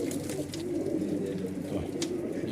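Madrasi pigeon, a fancy breed kept for sale, cooing softly and steadily against a low, continuous background hum, with no clear talk.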